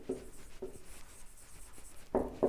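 Marker or chalk writing an example sentence on a classroom board during a grammar lesson, heard as a few short scratchy strokes separated by pauses, with a louder burst of strokes near the end, close and moderately loud.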